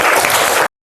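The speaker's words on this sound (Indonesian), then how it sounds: "Tepuk tangan dulu buat Jeffrey." Classroom applause after a student's answer in a biology lesson on cell structure, a short burst of dense clapping that cuts off abruptly.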